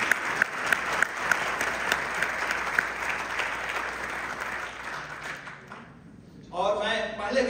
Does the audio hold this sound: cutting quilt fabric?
no